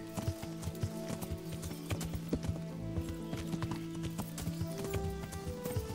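Horse hooves clip-clop in a steady rhythm in the medieval game Kingdom Come: Deliverance, close and clear over in-game ambience, with a brief whinny and no talking.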